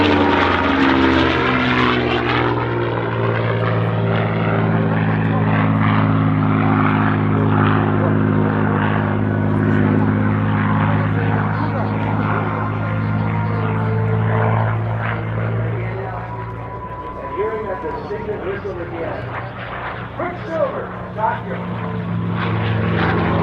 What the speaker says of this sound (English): Scott Yoke, and the P-51 he calls Quicksilver